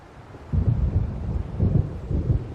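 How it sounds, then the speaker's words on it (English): Low rumbling thunder from an approaching storm over the sea in Alan Wake Remastered, rolling in deep waves after a quiet start, with a faint wash of wind and rain beneath. "It seems there's a storm coming."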